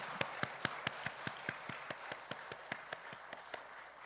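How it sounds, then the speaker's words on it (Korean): Slow, evenly spaced hand claps from a church congregation at a Sunday service, about eighteen sharp claps over four seconds in a steady rhythm, moderately faint and reverberant with no talk over them. "주님의 이름으로 환영으로 우리 박수 한번 보내겠습니다."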